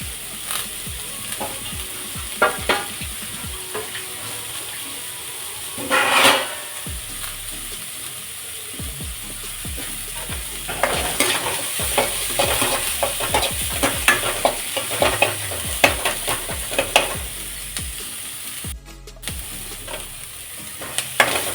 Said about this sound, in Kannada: ನುಗ್ಗೆ ಸೊಪ್ಪಿನ ಹೂವಿನ ನಂತರ ಬೆಳ್ಳುಳ್ಳಿ ಸೇರಿಸ್ತಾ ಇದ್ದೀನಿ